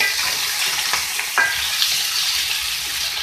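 Potatoes and eggplant fry together in a pan for village-style aloo baingan, a steady close sizzle broken by a few scraping stirs of a spoon, with no voices.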